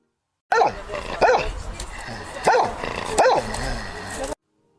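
A dog barks four times in separate loud, sharp bursts spaced about a second apart, fairly close, with low background noise between barks.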